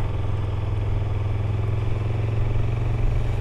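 A motorcycle rolls slowly at about 30 km/h through town in Odda, Norway, its engine giving a steady, close, low drone with a slight mechanical clatter throughout.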